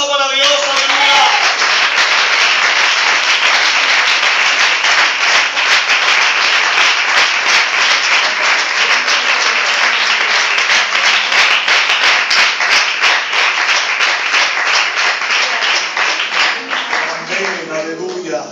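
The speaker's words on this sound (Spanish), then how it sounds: "Un aplauso para Dios." A church congregation claps together in a sustained, even burst of applause, loud and close, with a voice briefly audible at the start and the clapping thinning slightly toward the end.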